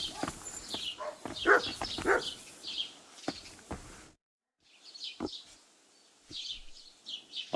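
A dog in the medieval game Kingdom Come Deliverance II barks in several short bursts amid chirping birds, close and moderately loud, with a brief silent gap midway.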